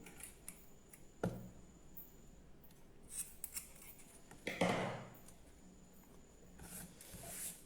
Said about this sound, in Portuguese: Corto aqui mais ou menos na mesma medida do fio.